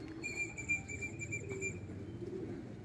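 Racing pigeons are released from a truck during a training toss, and their wings flap softly in a fluttering rustle. A few faint coos and chirps come through, along with a high steady tone.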